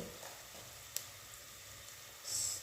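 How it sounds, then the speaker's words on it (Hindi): Cumin seeds frying in oil in a pan for a potato and eggplant dish, giving a faint, steady sizzle with a small click and a slightly louder hiss at the end. "इसे भूनेंगे जब तक ये भुनेगा"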